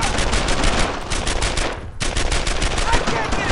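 Rapid machine-gun fire in the World War II shooter Brothers in Arms: Earned in Blood pounds loud and continuous, with a brief dip before the bursts resume at full force.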